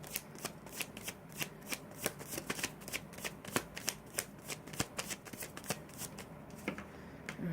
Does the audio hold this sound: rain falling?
no